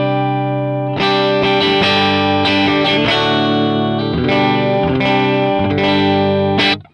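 Electric guitar played through a Line 6 Pod Go modeling a US Super Reverb amp, loud sustained chords and notes with rhythmic restrikes, distorted chorus-like shimmer and reverb, ending in a short burst before cutting off.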